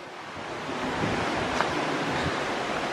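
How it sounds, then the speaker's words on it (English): A river running past a church in the village of Croston makes a constant, even rush of water, moderately loud with no pauses and no voices. "you can't beat the sound of running water"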